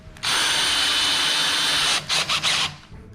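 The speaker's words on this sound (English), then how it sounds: "we're just going to put a screw in here at the top here to lock in this PVC" A power drill drives a 1 1/4 inch screw into PVC pipe, a loud, close whine lasting about two seconds, then three short bursts as the trigger is pulsed before it stops.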